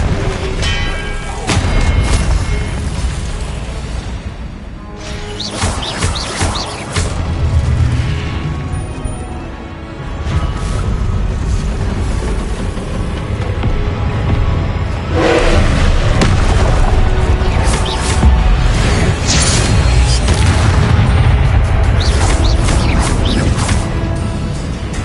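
Confringo blasting spells in a Harry Potter video game on PS5 set off repeated loud, booming explosions and crashes, packed densely into a continuous stretch of chaotic combat noise.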